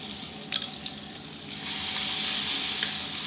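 Pounded chili, garlic and shallots fry in hot oil over medium heat for a spicy catfish stir-fry, giving a steady sizzle that swells louder midway, with a few soft stirring scrapes and no talking.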